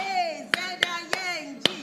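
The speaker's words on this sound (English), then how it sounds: "So this is what an amazing clap sounds like." A small group claps four separate times in a slow, uneven rhythm, each clap short and sharp, while a voice sings or chants underneath.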